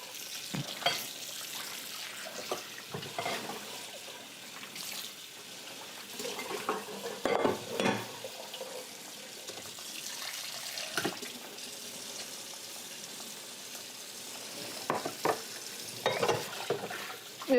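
Tap water running and splashing in a kitchen sink while soapy water is mixed, with intermittent splashes, clinks and stirring scrapes, moderately quiet and close.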